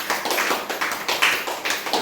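An audience claps hands together in quick, even rhythm at a spiritual gathering, about a dozen close, crisp beats in a short burst.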